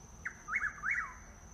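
A Chuck-will's-widow calls at night, one clear, rapid three-part whistled phrase rising and falling, fairly faint against a steady thin background hum.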